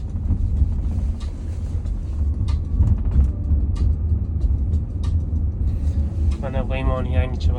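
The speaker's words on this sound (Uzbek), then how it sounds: "Mana Waymo'ning yangicha varianti kelyapti." New Waymo self-driving car variant approaches, a steady low road rumble of a vehicle passing close, heard under nearby voices talking.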